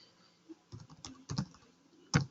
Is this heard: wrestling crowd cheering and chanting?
no